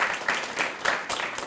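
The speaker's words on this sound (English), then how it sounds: "give her a round of applause" Applause from an audience at a school board health fund news conference, a steady dense patter of many hands clapping throughout, fairly close, with a brief surge near the end and no talk over it.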